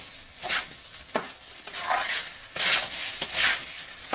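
Fish curry being stirred in a pan on a gas stove, a spoon scraping and sloshing through the thick gravy in repeated strokes over a soft sizzle, close and moderately loud, with no talking.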